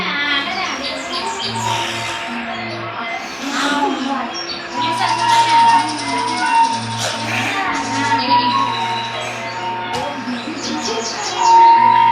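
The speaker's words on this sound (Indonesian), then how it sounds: "Kami adalah sekelompok burung yang tinggal di pepohonan." Bright bird chirps and tweets over a steady musical background, fairly close, with scattered calls throughout.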